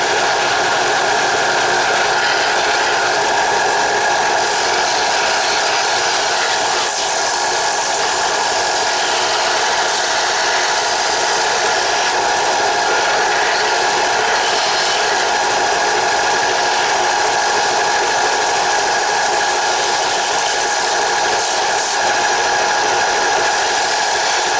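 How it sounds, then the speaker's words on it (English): A sander polishes the underside of a steel flint striker, a loud steady high-pitched grinding whir that runs without a break, no talk over it. "the bottom side of it needs to be polished, and I will do that on my sander"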